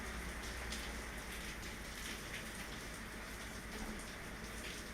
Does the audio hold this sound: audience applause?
no